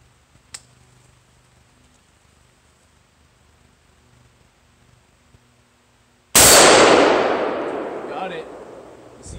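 A single loud gunshot rings out at close range after a stretch of near silence, its sharp crack fading into a long ringing decay, at an outdoor range shooting steel targets with flip-up iron sights.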